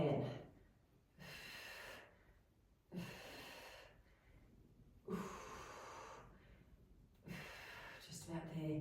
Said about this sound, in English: Breathing in through the nose and out through the mouth if you can.